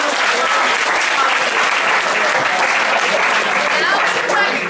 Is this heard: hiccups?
no